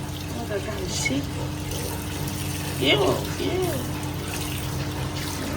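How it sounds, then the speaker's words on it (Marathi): Water runs and splashes steadily while a fish tank filter is washed, with a faint ratcheting clatter of plastic parts and a voice talking briefly near the middle. "फिल्टर बघा धुयचं चाललंय"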